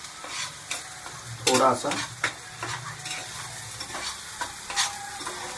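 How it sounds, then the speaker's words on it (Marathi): Ground masala paste roasting in a pan, stirred with a spatula: close scraping strokes over a steady sizzle, with one louder burst of frying, and a voice briefly speaks. "मसाला व्यवस्थित भाजून घेऊया"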